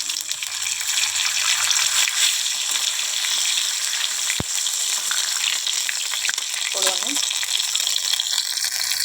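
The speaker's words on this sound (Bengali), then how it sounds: "ফোড়নে দিব গোটা জিরে, আর দিব শুকনো লঙ্কা, আর দিব তেজপাতা।" Whole cumin, dried red chilli and bay leaf crackle in hot oil as a tempering for a coconut chana dal, a dense loud hiss running steadily throughout with one sharp click near the middle.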